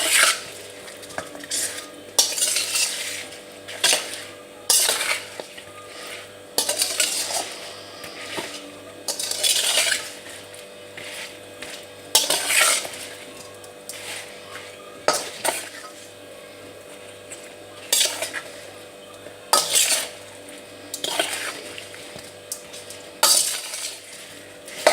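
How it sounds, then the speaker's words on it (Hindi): Mango pickle mixture being stirred in a pot, a spoon scraping and clinking against the metal in repeated bursts with quieter pauses between, faint sizzling beneath. "अच्छी तरह मिक्स करना है।"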